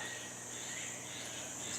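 Faint, steady high-pitched cricket trilling fills the background in a swamp, a soft continuous insect chorus with nothing else standing out.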